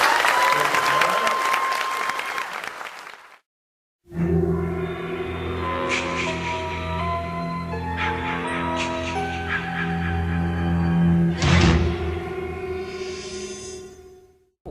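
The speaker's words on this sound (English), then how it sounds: "please let's have a big round of applause" Audience applause at the Monster-Mania 32 horror convention ahead of an Alan Howarth concert, a loud dense burst of clapping that cuts off, followed by sustained sound with tonal music-like layers filling the rest.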